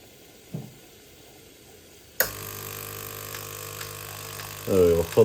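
A DeLonghi coffee machine, under repair for a hot water fault, starts dispensing hot water with a sudden hissing, steady flow that runs for several seconds. A gurgling spurt comes near the end, with the noise close and fairly loud.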